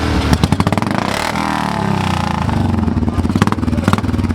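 Several motorcycles rev and rumble close by at a biker reunion, sharp throttle blips and crackling exhaust bursts rising over a continuous crowd of idling engines.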